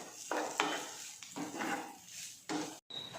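A spoon stirs chicken into masala in a pan for chicken-stuffed chatti pathiri, giving several scraping, clinking strokes with a faint sizzle, close by and without speech.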